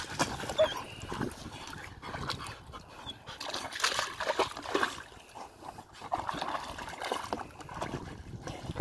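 A dog splashes and sloshes through water while bathing outdoors, irregular wet splashes of moderate loudness throughout, with faint voices now and then.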